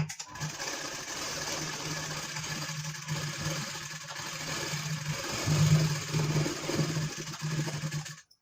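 Sewing machine running continuously as it stitches a peacock-coloured blouse for a wedding, a steady mechanical whir and hum that swells slightly toward the end before stopping, close by with no talking.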